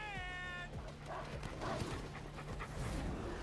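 Experimental cat-dog hound creatures in Final Fantasy VII Remake, a meow-like whine at the start followed by barks, growls and panting that continue through the rest of the stretch.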